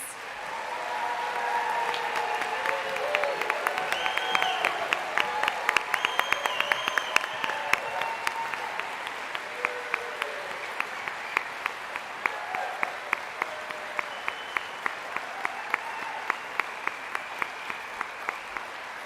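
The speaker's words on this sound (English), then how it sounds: "I would like to have all of the audience give our seniors a big round of applause" An audience at a BSN nursing pinning ceremony applauds the seniors, a sustained round of clapping from a crowd that swells, then thins to scattered claps near the end.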